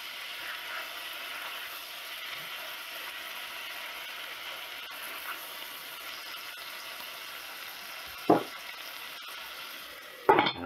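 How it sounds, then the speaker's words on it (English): Food browning in a hot pan sizzles faintly and steadily while it is stirred and flipped, with a couple of sharp clanks of utensil on pan near the end. "we can go ahead and we can start giving that a nice stir, flipping everything over"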